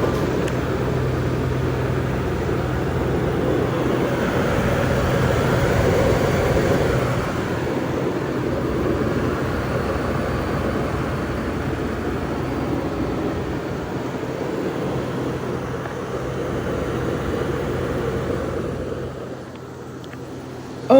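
A 2023 Ford E450 shuttle bus engine runs with the hood raised, giving a steady, low mechanical rumble and hum that keeps going without change for about twenty seconds and dips slightly near the end, with no voices.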